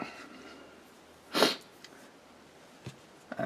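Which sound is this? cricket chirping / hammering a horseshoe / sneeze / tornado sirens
sneeze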